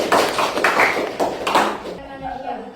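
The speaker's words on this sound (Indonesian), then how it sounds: "Coba beri tepuk tangan untuk Ratri." A classroom claps for Ratri: a short, loud spell of clapping lasting under two seconds, then fading into quieter room sound with a voice beginning.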